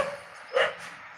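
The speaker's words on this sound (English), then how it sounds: "Oh, those dogs are still calling us." Dogs barking at dusk in a mountain town, a short burst of barks at moderate distance standing out over faint outdoor background.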